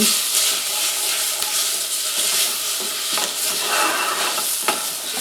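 Vegetables roast in a hot pan for a demi-glace, a dense, loud, continuous sizzle with scattered scrapes and pops as they are stirred, close up and without talk.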